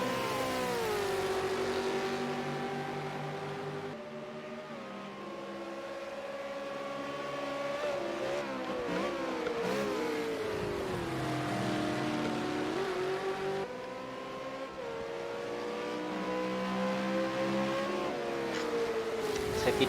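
V8 Supercar race cars lapping Bathurst's Mount Panorama in a racing video game, engines droning steadily with rising and falling pitch as they rev and shift, several cars overlapping continuously and fairly loud throughout.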